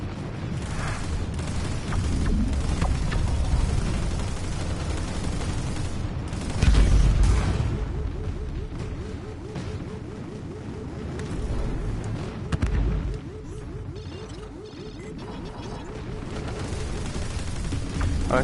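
Spaceship guns and missiles fire in the Eve Valkyrie space combat game, a dense, rumbling barrage of booms and rapid gunfire with a heavy blast partway through, continuing steadily throughout.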